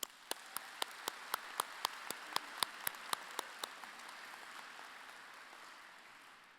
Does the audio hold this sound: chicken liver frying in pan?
no